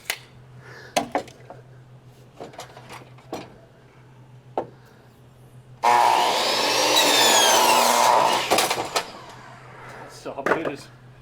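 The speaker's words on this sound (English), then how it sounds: "That wet wood eats a blade up pretty quick." A power saw blade cuts wet deck wood for about three seconds, a loud sustained whine under scattered knocks and thumps from the build, with people talking around it.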